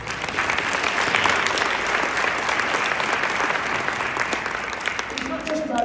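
Audience at an anniversary celebration bursting into sustained, dense applause, a broad wash of clapping lasting throughout with crowd noise and a voice rising near the end.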